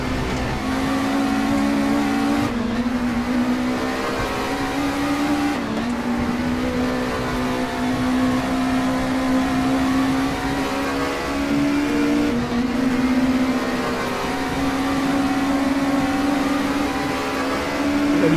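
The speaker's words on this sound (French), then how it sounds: "on vous fait vivre quelques instants avec le bruit du moteur de cette voiture." A BMW race car engine drones steadily at high revs on the Zandvoort track, its pitch sliding slightly and shifting at a few gear changes, loud and continuous with no talking.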